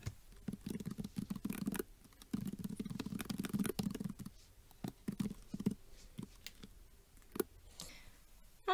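Text typed on a computer keyboard comes through as close, uneven bursts of soft key clicks with short gaps between them, over a faint low hum.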